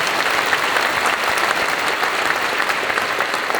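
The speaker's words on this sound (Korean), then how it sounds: "축하로 우리 박수로 축하해 주시기 바랍니다." A church congregation applauds a new pastor at a Korean pastor ordination service, dense continuous clapping from a large audience, even and sustained throughout without pause.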